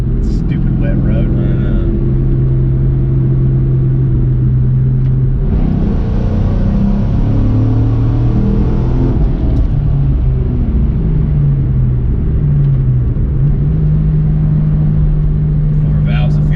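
A Ford Mustang Mach 1 engine rumbles and then accelerates on a wet road, its pitch climbing through the gears in loud, close cabin sound, with talking at points over it.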